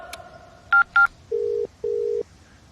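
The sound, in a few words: telephone ringing, call in movie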